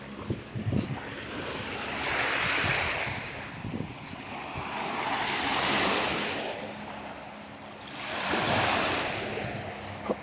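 Sea waves surge onto the shore at Yeniçiftlik, Tekirdağ, in three slow swells, each rising and falling away, with steady wind rushing over the microphone between them.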